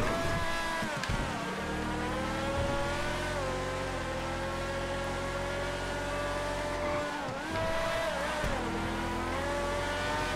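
A Coquette sports car races in GTA FiveM, its engine droning loud and steady with rising and falling revs as it shifts gears, dipping briefly twice before climbing again, with no voices.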